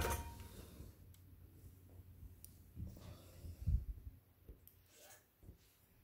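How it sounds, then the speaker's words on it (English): Quilting thread snipped with scissors, a few faint close clicks and snips amid quiet rustling and handling noise. "so I'm just going to cut my thread."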